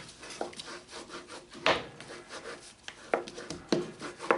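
Bone folder rubbed firmly over book cover boards, a dry woody rasping with a few sharper scraping strokes, close and fairly quiet, no talk.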